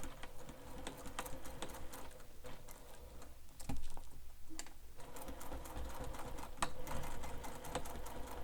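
A sewing machine back-stitches a wallet in a fast, even run of needle strokes, with a brief lull midway before the rapid stitching picks up again, close and fairly quiet.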